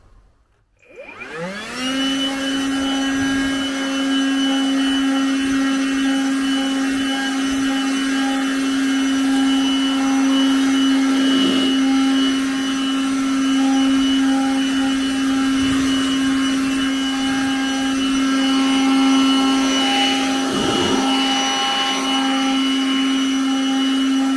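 A Ryobi RY18BLXC cordless air blower spins up from silence into a loud, steady high whine and holds it, with faint rustles as it pushes slightly wet leaves across a back-garden lawn; no one speaks.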